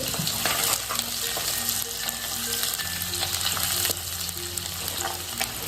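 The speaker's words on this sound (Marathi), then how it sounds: "दोन मोठे कांदे कापले ते टाकायचे" Two large chopped onions frying in a pan on low heat make a loud, steady sizzle with intermittent stirring scrapes and clinks, close by, with no voices.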